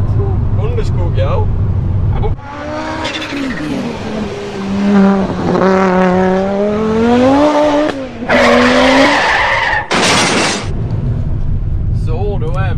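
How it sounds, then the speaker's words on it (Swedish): A car rolls along a gravel road through farm woodland in Sweden, its engine and tyre noise steady and close, with loud wind or hiss bursts and people talking over it. "Vi kör här på någon grusväg."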